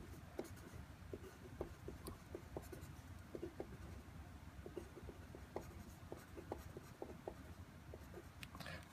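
Chalk or marker tapping and scraping across a board while an equation for a partial differential equation problem is written out, a steady run of short strokes and taps, fairly close and alone, with no talking.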